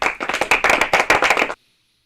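A single person's hands clapping in a quick, even run of about a dozen crisp, close claps, then abrupt silence.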